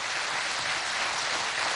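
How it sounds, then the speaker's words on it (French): Steady audience applause at a job-creation project launch ceremony, continuous dense clapping throughout, fairly distant and even in loudness with no talking. "Applaudissements spéciaux pour la présence massive de la jeunesse."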